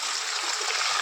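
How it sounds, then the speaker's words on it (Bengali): Taro leaves are rinsed and stirred in a basin of water, making a steady close-up sloshing and splashing wash that runs continuously without pause. "কচুর পাতাগুলো আমি জলের মধ্যে ঢেলে দেবো, দিয়ে ভালো করে পরিষ্কার করে নাড়াচাড়া করে এভাবে ধুয়ে নেব।"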